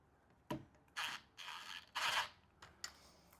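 Allen bolts are tightened in turn on a clamping unit's base plate, giving a series of short creaking, scraping ratchet-like turns, close and fairly quiet, with brief pauses between.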